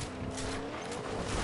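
Car in the Fortnite video game driving past, a short, loud rush of engine and tire noise lasting about a second and a half, no voices.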